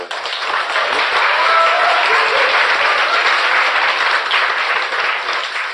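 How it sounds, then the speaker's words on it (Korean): A large audience breaks into loud, dense applause during a political talk show, sustained and even throughout, with no speech over it. "이게 박수까지 칠 일인지 모르겠는데"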